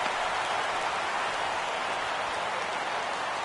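Steady rain hisses in an MLB 17 baseball game broadcast on PS4, a dense even wash of drops with no breaks and no voices.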